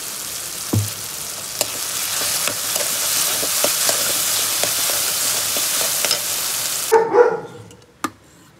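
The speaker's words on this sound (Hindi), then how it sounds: "ये मैंने दाल में तड़का डाल दिया है" Tempering of red chilli and dried fenugreek leaves sizzling in hot oil for dal, a loud steady frying hiss with a few clinks, then a sharp burst as it hits the lentils before fading out.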